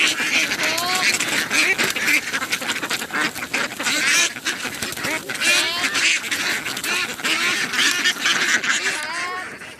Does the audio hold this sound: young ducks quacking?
yes